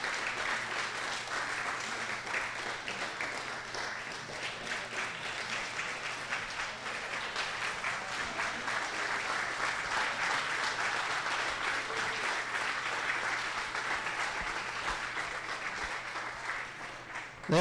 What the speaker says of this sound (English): I think it'd be great if the class of 2019 could give our alum a round of applause.